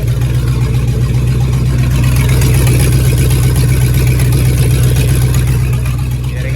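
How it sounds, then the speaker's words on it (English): Chevrolet Silverado engine idling loud and close with an exhaust leak, a steady low rumble with a rapid ticking puff running through it, unbroken for several seconds with no talk. "Yeah, they got a little exhaust leak on there."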